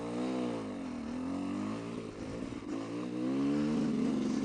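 Motorcycle engine revving high in the wrong gear before a downshift, a steady strained drone with wavering pitch that rises toward the end, loud and close with no talk.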